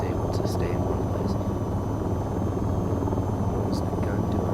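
Helicopter rotor in the video game VTOL VR, a constant loud, low throbbing drone with a steady engine whine, running unbroken under the whole stretch.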